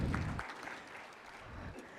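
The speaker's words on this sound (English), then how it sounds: "A big round of applause to all the children" An audience at a school annual day celebration claps for the children, a burst of applause that fades quickly to scattered claps.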